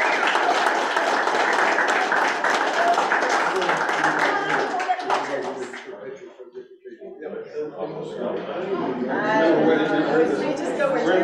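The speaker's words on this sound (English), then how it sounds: "One big round of applause." At a township council meeting, a room of people claps steadily and fairly close for several seconds, the applause fading briefly before resuming amid chatter, with voices talking over the end.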